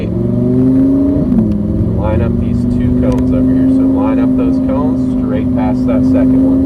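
A Lamborghini supercar engine on a track, a steady loud drone with a slight dip and rising pitch as it accelerates, running continuously under a voice giving driving instructions.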